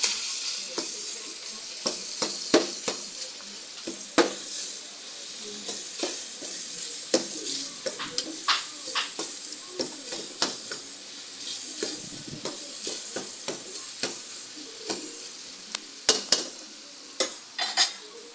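Boiled spaghetti being stirred in a pan, with a soft continuous sizzle and frequent sharp scrapes and clinks of a utensil against the metal, close and fairly busy throughout.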